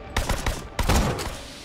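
Bursts of rapid assault rifle fire from Borderlands: The Pre-Sequel, two close, loud volleys of quick shots separated by a brief pause.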